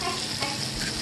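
Patty pan squash frying in grapeseed oil, a dense, continuous sizzle that stays close and even, with no talking over it.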